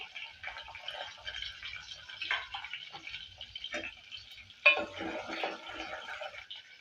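Mustard seeds, fenugreek and shallots fry in oil, a soft, steady crackle and sizzle with scattered pops, plus a louder clink or spatter near the end.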